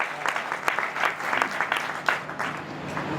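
An audience at a kavi sammelan poetry gathering in Sabalgarh, Morena, claps for the poets in a steady, moderately loud round of applause that continues throughout.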